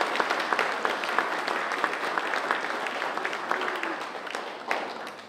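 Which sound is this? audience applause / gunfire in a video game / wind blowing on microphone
audience applause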